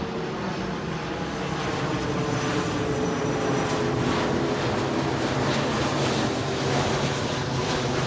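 A Virgin Atlantic airliner passes overhead near the airport in Barbados, a loud steady roar of jet engines filling the whole stretch without pause.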